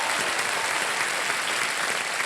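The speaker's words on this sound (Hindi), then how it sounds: "एक बार तालियां बज जाएं इनके लिए" A studio audience at the Indian quiz show Kaun Banega Crorepati claps for a contestant, giving steady, dense applause throughout with no break.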